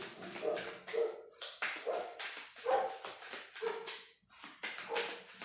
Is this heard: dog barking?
yes